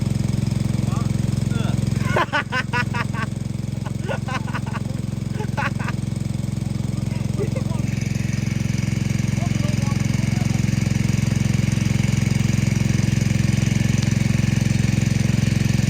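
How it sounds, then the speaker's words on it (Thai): A small engine runs steadily at a loud, close level, with a burst of rapid revving sputters early on and a smoother, higher, sustained tone later; voices are faint underneath at times. "เดี๋ยวกูเร่งเครื่องกัน"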